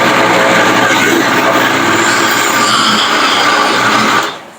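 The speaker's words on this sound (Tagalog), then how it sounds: "dito sa loob ng blender, nilagay ko na sa loob dyan yung sliced cream cheese tsaka white sugar para sa frosting natin" Close, loud whirring blender churning sliced cream cheese and white sugar for frosting, a steady motor drone with a gritty mixing texture that runs continuously before cutting off abruptly near the end.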